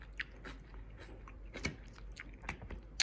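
Crunchy Miyama brand kimchi from a Japanese market in Yokosuka being bitten and chewed close to the mic, a steady run of soft wet crunches with a few sharper bites.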